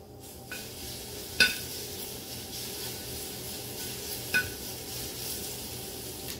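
Bacon fries in a pan, rendering its fat with a steady, quiet sizzle and crackle, broken by two sharp clinks of a utensil against the pan, with no talking.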